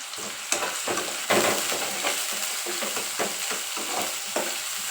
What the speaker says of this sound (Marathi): चिरलेला आहे तो कांदा एक मिरची आणि सगळं मिश्रण एकत्र भाजून घ्यायचं चांगल्या पद्धतीमध्ये